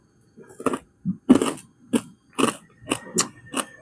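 Large crispy chicharon dipped in sweet barbecue sauce crunches loudly and close in about seven sharp, crackling bites spaced unevenly, with quiet gaps between them.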